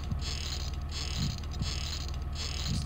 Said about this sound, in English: 2 screws, unscrew them.